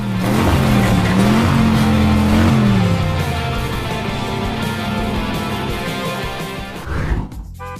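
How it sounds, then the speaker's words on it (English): Monster trucks race in a cartoon, with roaring, revving engines and a rising-falling motor whine over continuous loud racing noise, tailing off with a brief skid-like burst near the end. "Monster fire trucks are having a triumph race there."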